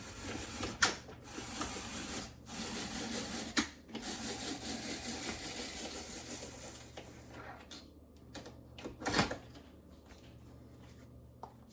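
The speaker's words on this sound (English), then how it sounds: "So let's get started peeling and slicing up some more apples" Apples are peeled and sliced for pie filling, producing a continuous close scraping and rubbing from a peeler or slicing device, broken by a few louder knocks and clunks, with no talking.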